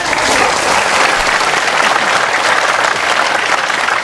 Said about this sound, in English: you don't have to always clap like this.